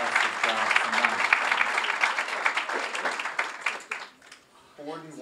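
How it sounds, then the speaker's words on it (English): Applause from an audience at an evening ceremony honoring a star in Buffalo's Theatre District, dense steady clapping for about four seconds that thins out and fades, with a voice starting to speak as it ends. "Let's give our co-chair and our co-president another round of applause."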